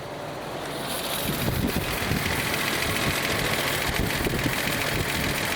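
A restored Nissan Z six-cylinder engine runs steadily, a loud, even rumble with wind buffeting the microphone, holding a smooth idle throughout.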